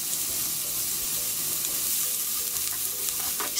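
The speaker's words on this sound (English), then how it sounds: "put baked noodles," Baked noodles for yakisoba fry in a pan with cabbage, giving a dense, continuous sizzle with occasional stirring clicks and scrapes.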